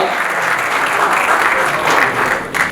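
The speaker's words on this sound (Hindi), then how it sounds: "रवि किशन जी के जोरदार तालियां हो जाए" Loud applause from a crowd at a Bhojpuri Industry Premier League player auction, dense and continuous with a brief swell near the end, no clear speech over it.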